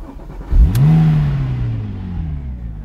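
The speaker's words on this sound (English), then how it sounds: "the 550 brake horse engine that exits via the quad chrome tailpipes and literally actually physically shakes the car" A Porsche 911 996 Turbo S Cabriolet with a 550 hp engine and quad chrome tailpipes fires up loud and close, revving up to a rising whir and then settling into a deep, steady idle.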